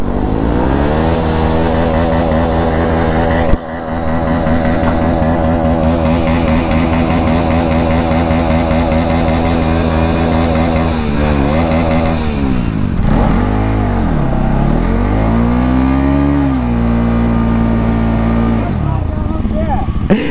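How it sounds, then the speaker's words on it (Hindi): An off-road motorcycle does a burnout on dirt, its engine loud and close, holding a throaty rev before swooping up and down in pitch as the throttle is worked. "अभी मेंटल राइडर एकदम बर्नआउट मार के छेद कर देंगे जमीन में"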